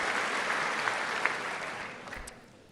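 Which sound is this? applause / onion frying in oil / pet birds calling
applause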